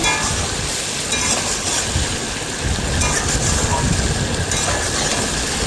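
Steady, dense sizzling of cauliflower, paneer and potato frying in a pan, a constant crackling hiss that fills the whole stretch without pause.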